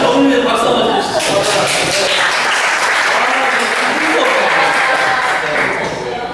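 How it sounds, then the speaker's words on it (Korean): A studio audience breaks into loud, dense applause that rolls on steadily for several seconds before easing slightly at the end. "저분들 박수 한번 주시죠."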